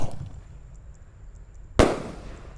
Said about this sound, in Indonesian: Di sini ada mercon Raja Wali terbang guys. Sudah menyala, siap meluncur,